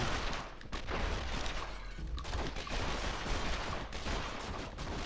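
Dense, continuous SMG gunfire from The Matrix: Path of Neo, a steady loud barrage of rapid shots mixed with impacts and action effects, with no pauses across the stretch.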